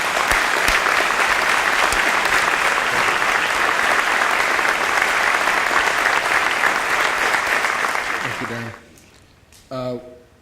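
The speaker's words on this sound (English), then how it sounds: "let's give him a big round of applause." An audience at a police services awards ceremony applauds steadily for about eight seconds before the clapping fades, followed by a brief bit of a voice speaking.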